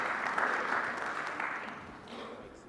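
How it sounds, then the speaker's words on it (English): Audience applause at a technology summit as a moderator walks to center stage: dense, steady clapping that is loudest at the start and gradually fades over nearly three seconds. "A round of applause as he's coming to the center stage."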